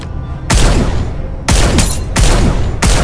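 Rapid bursts of video-game gunfire in a battle game, loud and close, arriving in four dense volleys separated by brief lulls.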